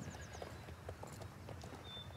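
A small Jorvik wild horse galloping in the Star Stable video game, quick rhythmic hoofbeats pattering steadily and faintly over a low background hum, with no talk.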